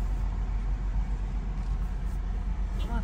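The engine of a Ford Explorer climbs an uphill road with a steady, deep motor rumble and road noise throughout, and voices are faintly present.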